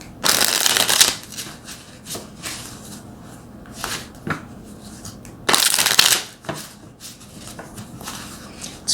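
Tarot cards shuffled by hand in bursts of crisp riffling and flicking, loud and close, separated by quieter pauses with small card handling sounds.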